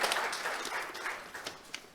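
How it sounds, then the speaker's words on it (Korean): An audience in a hall applauds at the opening ceremony of the Architecture and Urban Research Institute, a moderate wash of clapping that continues for two seconds and fades slightly toward the end. "다시 한번 뜨거운 박수로 모셔보겠습니다."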